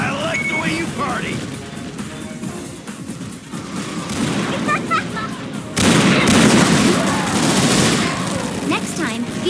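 Unreal Tournament 2004 gunfire in a team match, dense loud rapid shots and explosive bursts blasting almost without pause, with shouting voices and in-game announcer lines mixed in.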